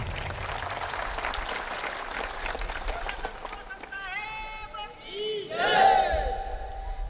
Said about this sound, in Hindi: ये तालियां ऐसी बजा रहे हो जैसे महाभारत के युद्ध में घायल पड़े हो।